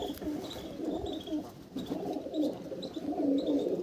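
Pigeons in a loft of fancy breeds coo steadily in soft, throaty bursts, several birds overlapping at close range, with faint higher chirps above.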